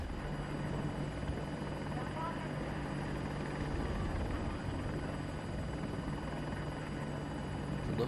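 An Apache attack helicopter in the video game Battlefield 2042 drones steadily, its rotor and engine noise forming a constant, even rumble that fills the whole stretch without letting up.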